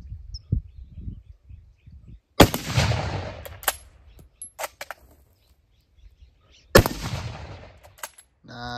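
Two sharp, loud rifle shots from a .303 British with a duplex powder load, each followed by a decaying outdoor echo, with faint birdsong and small clicks in between.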